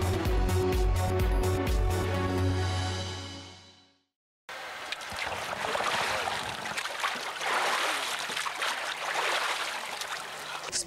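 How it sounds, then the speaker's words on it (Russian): Icy lake water splashes during Epiphany bathing outdoors in winter, a steady rush of churning water and noise lasting about six seconds after a short musical lead-in and a brief silence. "Всплески ледяной воды"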